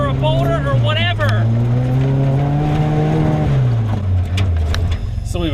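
A Tomcar TX 4x4 UTV climbing a steep off-road grade in four-wheel drive, its engine a loud close drone that rises and falls in pitch, with a person talking over it at the start and end.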